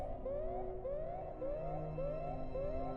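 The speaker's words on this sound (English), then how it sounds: "you hear the sirens come on" Alarm sirens aboard a ship in an Alien tabletop RPG session wail in repeated rising sweeps, about five cycles, loud and steady with no voices over them.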